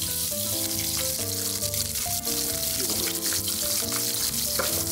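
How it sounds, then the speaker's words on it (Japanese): Oil bubbling steadily in a pan, ready for pan-frying fresh fish with butter and lemon, heard up close under a bed of background music. "今こういう感じでこう油がふつふつしてきたら"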